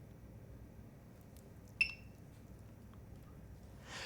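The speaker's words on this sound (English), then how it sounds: "If I do this every like 20 seconds, it sounds like the fire alarm." A single short electronic beep from a keyboard, high and chirp-like like a smoke alarm with a low battery, sounds once near the middle over quiet room hiss.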